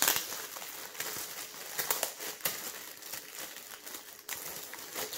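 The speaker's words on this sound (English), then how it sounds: "So I will get it out of the packaging." A Charles Bentley grooming bag pulled from its plastic packaging, close crinkling and rustling in irregular bursts for several seconds, no voices.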